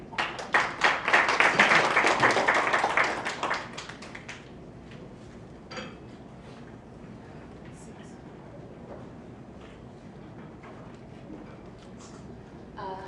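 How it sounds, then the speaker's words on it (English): At a Jeju Forum session on China-Japan-Korea cooperation, the audience gives a speaker a short burst of applause lasting a few seconds, which then drops away to quiet room noise with occasional small knocks. "Please welcome him with a big round of applause"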